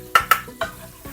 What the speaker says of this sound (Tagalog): Ilagay na natin itong 6 cloves na minced garlic.